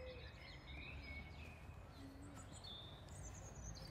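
Birds singing in a nature park, faint scattered chirps and short whistled phrases over a steady outdoor rumble, distant and alone with no talk.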